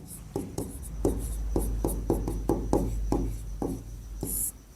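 Chalk or marker scratching across a classroom board, a steady run of short, evenly spaced strokes with a few faint squeaks, close and clear over quiet room hum.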